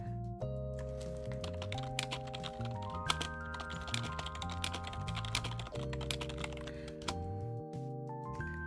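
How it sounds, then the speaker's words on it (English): Rapid, close tapping on a computer keyboard, with dense irregular clicks running throughout beneath a steady musical background. "Sorry if the tippy taps from my keyboard were too loud there."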